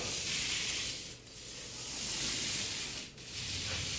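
A soft, continuous rolling and rubbing sound of a paint roller back rolling a wall sweeps back and forth, swelling and dipping in rhythmic passes, fairly close and quiet.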